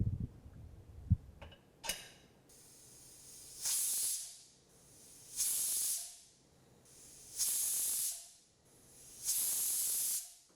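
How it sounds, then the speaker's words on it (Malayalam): Pressure cooker of lentils on the stove, hissing in four regular loud steam bursts about two seconds apart after a few clanks at the start, close by with no talking. "ഈ കുക്കറിനി അടച്ചു വെച്ച് 4 വിസിൽ കേൾക്കുന്നത് വരെ കുക്ക് ചെയ്യുക."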